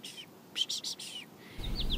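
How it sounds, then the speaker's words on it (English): Bright, high chirps from an American goldfinch giving its flight call, a short run of rapid notes followed by a couple of thin sliding calls, close and clear over faint background noise. "So what they say the goldfinch says is potato chip."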